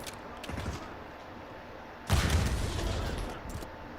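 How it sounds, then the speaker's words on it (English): Video game shootout: a burst of distant gunfire about half a second in, then a louder, denser volley of overlapping shots and booms from about two seconds on that fades gradually. "Oh, it's a shootout out there."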